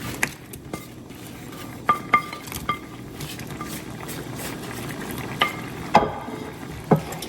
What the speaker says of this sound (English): now we're going to also add our sausages back in